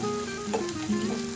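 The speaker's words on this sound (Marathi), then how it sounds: "तो मी छान तांबूस होईपर्यंत परतूया" A small chopped onion sautéing in a pan until browned for a cluster bean curry, a brief close sizzle with a couple of light stirring scrapes, no talking.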